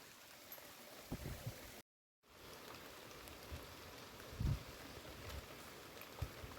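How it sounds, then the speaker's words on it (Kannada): First rain of the year falling outside a new house, a steady even hiss of drops with a few louder low thumps, the wash briefly cutting out before resuming at the same level. "ಗುಡುಗು ಕೂಡ ಗುಡುಗ್ತಾ ಇದೆ, ಮಳೆ ಬರ್ತಾ ಇದೆ"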